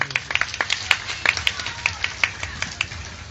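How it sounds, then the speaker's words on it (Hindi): A crowd claps at a Bhagavat Katha religious gathering in Katihar, producing a rapid, uneven run of sharp, close handclaps that varies in loudness and keeps going throughout. "इसलिए जोरदार कर ताली लगाइए सभी।"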